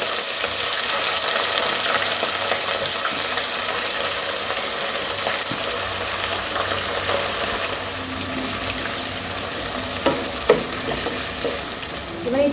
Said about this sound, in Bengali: পেঁয়াজগুলোকে বাদামি করে ভেজে নেব